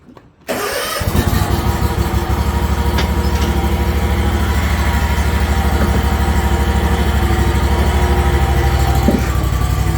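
Kubota Z411 48-inch zero-turn mower engine, just fitted with a new drive belt, catches after a brief crank and settles into a steady, loud, close idle that continues evenly, with no talking.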